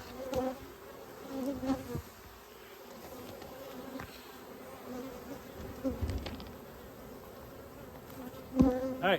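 Agitated honeybees buzz around an open hive during a cloudy-day inspection while frames are scraped, a steady close drone with bees darting past the microphone and occasional soft knocks and scrapes.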